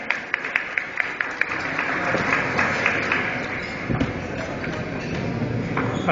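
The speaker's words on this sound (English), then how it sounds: "Give him a round of applause." An awards-dinner audience at a science academy gives a round of applause for an incoming president-elect. The broad, steady clapping runs for about six seconds with a few sharp, close claps near the start and murmured voices underneath.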